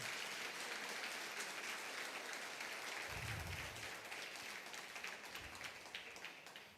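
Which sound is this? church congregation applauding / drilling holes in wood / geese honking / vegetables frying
church congregation applauding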